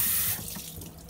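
Goat meat is rinsed under a running kitchen sink tap, with a close, steady hiss of flowing water that drops to a softer, splashier stream after a moment.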